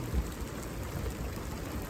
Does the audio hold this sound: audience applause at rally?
no